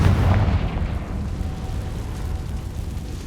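A fiery Confringo spell explosion in the Hogwarts Legacy video game, a loud, deep, rumbling blast that roars steadily and slowly fades over a few seconds.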